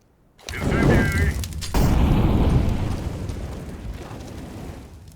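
An incendiary grenade bursts into fire in Counter-Strike: Global Offensive, a sudden loud whoosh and crackle that surges, briefly dips, then roars again and slowly fades, with no talk over it.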